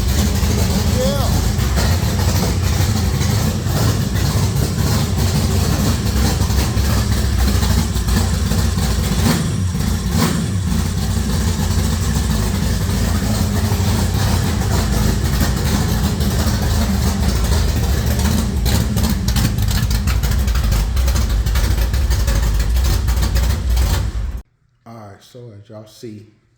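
Chevrolet El Camino engine idling after reassembly, a loud, steady low rumble close by for most of the clip, ending abruptly near the end.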